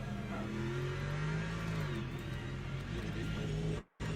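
A race car engine in the Le Mans Ultimate racing game drones loud and steady with slight shifts in pitch, then cuts out abruptly for a moment near the end.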